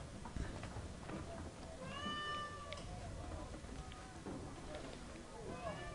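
Cats meow a few times in Assassin's Creed 3, thin, rising calls sitting over a busy game background with footsteps and ambient noise, while someone talks over it.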